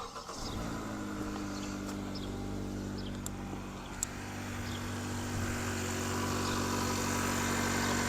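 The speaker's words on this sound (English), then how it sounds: "Hit confirm, and then start the vehicle." A car engine cranks and catches after a brief quiet start, then settles into a steady, even idle that hums on at moderate volume with faint clicks above it.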